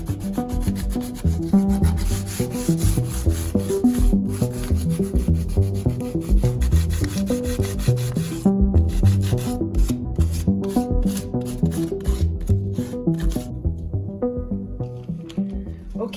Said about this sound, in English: I'm almost done on this side, but you can see how much of the paint came off with the sanding